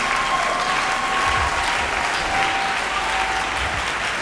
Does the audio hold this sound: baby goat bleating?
no